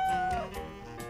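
A cartoon cat gives a single short meow, bright and close, with a sliding pitch that fades out within about a second.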